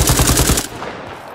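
An AK rifle in a video game fires a rapid automatic burst of about six loud, evenly spaced shots, then stops, leaving a fading echo.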